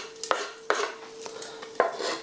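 Mustard seeds pop in hot ghee during tempering for a spicy potato dry curry, giving a few sharp, separate crackles over a steady sizzle, fairly close and moderately loud.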